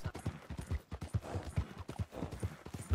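Horse hooves clip-clopping in the Red Dead Redemption 2 video game, a quick rhythmic run of hoofbeats repeating steadily and clearly in the foreground.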